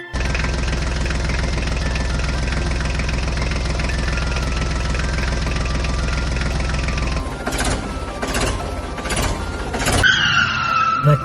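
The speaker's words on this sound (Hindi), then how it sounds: "अब हम अपने ट्रैक्टर को लेकर चलते हैं।" A toy tractor is driven along in play, giving a steady, loud engine-like rumble for about seven seconds, then a burst of scraping, rattling handling noises with a brief higher whine near the end, no voices.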